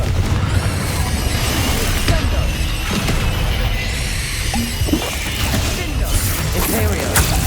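Blasting Confringo spell explosions in Hogwarts Legacy, a dense run of booms and crashes over a constant noisy combat din, loud and close, with a voice calling out spells.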